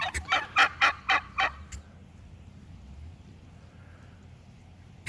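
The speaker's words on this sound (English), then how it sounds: "They're the only two turkeys I've got." Two turkeys give a series of about six loud, rapid gobbles, then a quiet outdoor lull with a faint low hum.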